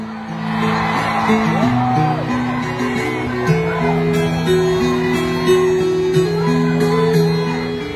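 A big outdoor political rally crowd in Davao shouts and cheers, a dense roar of many voices with whoops and sustained chant-like tones, loud and continuous throughout.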